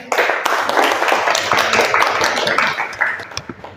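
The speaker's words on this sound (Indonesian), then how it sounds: "tepuk tangan presentasinya" Students in a classroom clap together for a group's photography-services presentation, a dense, steady patter of many hands filling the room for several seconds before tapering off.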